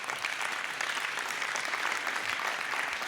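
An audience at an award ceremony applauds continuously, a dense, evenly sustained wash of clapping with no voices rising above it.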